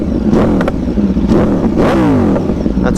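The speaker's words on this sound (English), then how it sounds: "There's a couple of baby revs." A 2022 Aprilia RSV4 fitted with an Austin Racing exhaust blips its throttle in a few short, loud, close revs that rise and fall sharply, with no talk over them.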